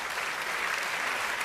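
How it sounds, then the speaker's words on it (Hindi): Studio audience at a televised Hindi debate show breaking into applause, a brief, dense and steady burst of many hands clapping. "तालियां बजा दीजिए"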